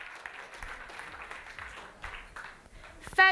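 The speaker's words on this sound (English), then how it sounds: "Give yourselves a round of applause and please quickly take a seat." An audience at a financial seminar applauds in a light, steady patter of clapping that lasts a few seconds, with a loud burst at the end.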